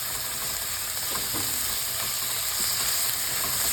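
Onions and tomatoes sautéing together in a pan for ginisang ampalaya, giving a steady, close sizzle and hiss with faint stirring, no voices.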